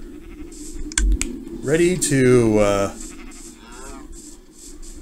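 A Minecraft sheep gives a single wavering bleat, close and clear, against a low background hum with a few soft clicks around it.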